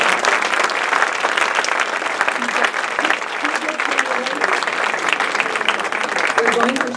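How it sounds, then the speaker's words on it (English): Audience applause after a village president debate, a full sustained crowd clapping at steady loudness for several seconds, with faint voices murmuring underneath. "I would now welcome your applause."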